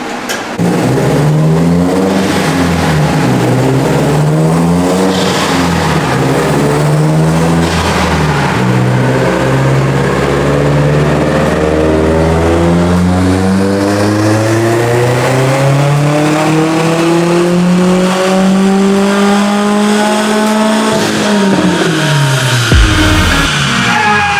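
A Subaru STI engine on a dyno during a tuning run, loud and close, climbing steadily in pitch through a long pull for about twenty seconds before dropping sharply at the end.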